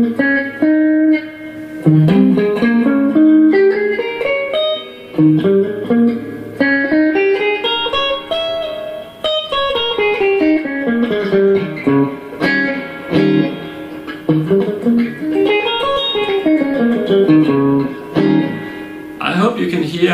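An electric guitar plays flowing melodic pentatonic licks, notes rising and falling continuously at a steady, moderate volume with no talking.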